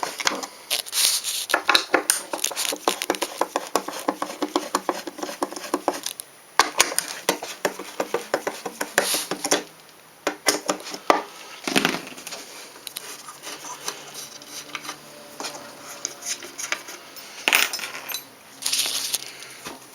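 Screws being backed out of a wooden cutting template laid over MD-87 aircraft parts, with close, irregular clicks, scrapes and rattles of tools and hardware running steadily throughout, no speech.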